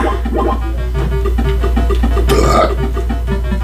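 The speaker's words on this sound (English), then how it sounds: "Burps." Burps from Popeye in the Nintendo Entertainment System game, a short rough belch rising out of a steady electronic music loop near the middle, loud and close.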